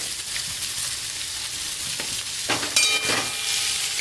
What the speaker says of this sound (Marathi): मीठ काकडी आणि बटाट्याला चांगल्या प्रकारे लागावं म्हणून आपण परत एकदा परतून घेणार आहोत.